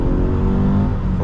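A 2013 Subaru BRZ pulling away from a traffic light, its engine note loud and close from inside the cabin, a strong rising drone held through the whole short stretch.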